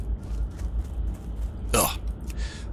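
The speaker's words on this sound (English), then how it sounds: "I had a half hiccup, half burp" A man makes a single abrupt half hiccup, half burp, a sharp, loud gulping burst that stands out briefly against quiet background.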